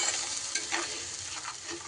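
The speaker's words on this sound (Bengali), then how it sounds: "এবার সুন্দর করে মশলা কষিয়ে নিতে হবে।" Masala for a coriander rui fish curry stirred and frying in a pan, a steady sizzle with scraping strokes of the spoon throughout.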